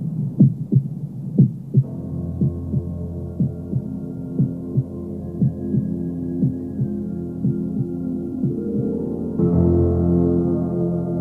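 A heartbeat effect in a French radio crime story about a dead man's heart: steady, muffled low thumps repeat over a droning hum that swells louder and fuller near the end, with no voices.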